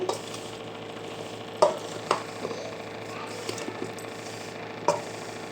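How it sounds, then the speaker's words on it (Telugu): A spoon stirs and scrapes through a thick avakaya mango pickle mixture in a bowl, with a few sharper clinks against the side over a steady low hum. "ఇలా మంచిగా వక్కలు కలుపుకోవాలి"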